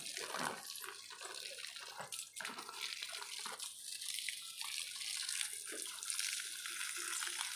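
Water splashes and pours steadily onto potted plants on a rooftop at dusk, a continuous wet hiss broken by irregular splatters and drips, fairly close with no voices.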